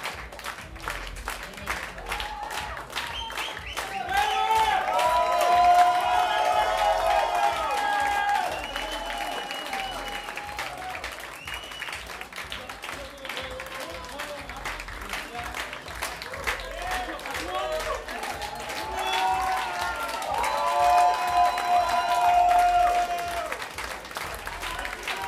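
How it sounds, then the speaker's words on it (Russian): Audience applause fills the hall steadily for the whole stretch, a continuous wash of clapping that swells twice. Faint musical tones sit underneath. "Аплодирую вам."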